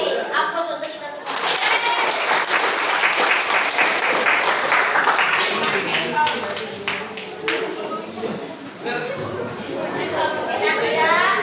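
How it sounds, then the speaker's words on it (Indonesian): A school audience of high school students in a classroom or hall applauds, a dense, loud burst of clapping that swells and holds for several seconds, with chatter and voices running underneath. "Oke, aplaus untuk kita semua."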